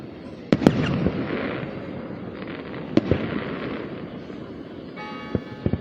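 Fireworks at the Lock Haven regatta display boom and crack in scattered sharp blasts over a rumbling wash, while a church bell tolls ten o'clock, its ringing tone emerging clearly near the end.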